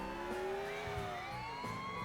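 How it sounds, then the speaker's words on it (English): Rising and falling siren wail of a GTA 3 style ambulance driving in GTA IV, with steady engine and road noise underneath, continuous and fairly close throughout. "it's a GTA 3 ambulance"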